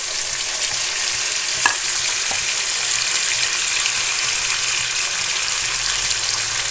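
Chillies frying in hot oil for a potato and tinda curry give off a steady, dense sizzle that hisses evenly throughout, with a couple of faint clicks and no voices.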